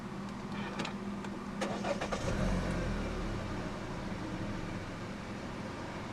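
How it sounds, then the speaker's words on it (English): A 2014 Hyundai i40 2.0 GDi engine is push-button started: a few clicks, a brief starter crank and catch with a rise in revs, then a steady, fairly quiet idle. "Put your foot on the brake and press the start button to the left of the steering wheel."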